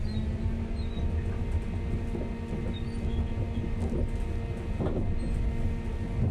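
Passenger train running between Stockport and Manchester Piccadilly, heard from inside the carriage as a steady low rumble and rolling rattle with faint clicks and squeaks, no voices.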